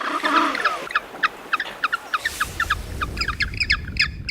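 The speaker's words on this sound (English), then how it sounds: "These penguins hop around the water and call one another in short, raspy barks." African penguins on a rocky South African shore call to one another with a rapid series of short, raspy, squawking barks, loud and close, over a low background rumble.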